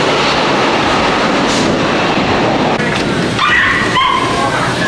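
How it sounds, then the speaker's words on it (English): A loud, steady rumble of a subway train filling the station, with screeching metallic squeals near the end as it comes in. "We're going to this subway. Train's coming."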